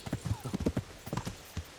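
Horse hooves clip-clop in a steady, close rhythm in the video game Kingdom Come Deliverance, a brief run of distinct footfalls with no talk over them.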